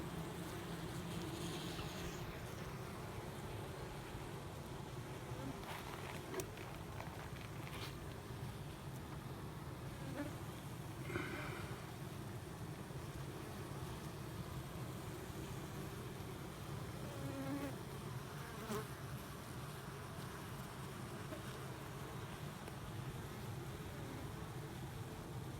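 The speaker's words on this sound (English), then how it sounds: "You'll also have a set of guard bees in so the guard bee is just inside the door there" Honey bees buzz steadily at the entrance of a hive from a cutout, a dense continuous hum with no pauses, moderately close and unbroken by speech.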